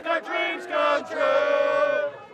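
Soccer supporters in Toronto chanting together in a tuneful, sustained group singalong, a loud massed chorus of voices with rhythmic swells.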